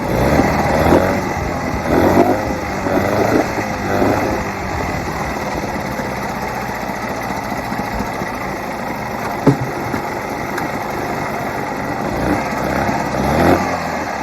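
An old Mercury 110 9.8 HP outboard engine running in neutral, a steady loud buzzing idle with slight rhythmic wavering and occasional small surges, heard alone without speech.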